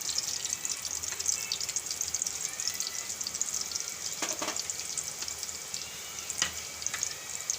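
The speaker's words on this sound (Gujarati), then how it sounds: "તો હવે આપણે આને આ તેલમાં જીરું નાખી દેવું" Cumin seeds sizzle in hot oil while a bitter gourd and potato curry is being made, giving a steady, close crackling hiss with a few sharper pops and no talking.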